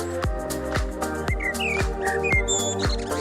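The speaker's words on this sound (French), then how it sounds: "On entend les oiseaux" A birdsong sound-effect track plays in DaVinci Resolve: scattered chirps and short whistles sit over a steady, thumping musical beat that repeats about twice a second.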